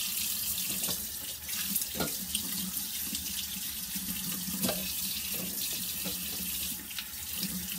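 Tap water runs steadily into a sink while dirty eggs are rinsed under it, a continuous close splashing rush with small knocks and clatters, no talking.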